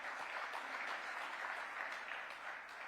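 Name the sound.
women in the audience clapping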